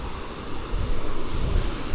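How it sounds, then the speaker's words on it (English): Ocean waves and wind on the beach at Cabarete in the Dominican Republic make a continuous close roar, with heavy wind buffeting the microphone and a wave swelling louder in the second half. "I'm just going to show you the ocean here while I talk."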